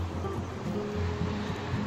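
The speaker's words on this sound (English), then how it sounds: "this is a small little river that crosses by the city" A small river flows beneath a city footbridge, a steady broadband wash of moving water that runs continuously, close and fairly full, with no voices over it.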